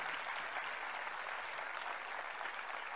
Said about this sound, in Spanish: Un aplauso, qué lindo.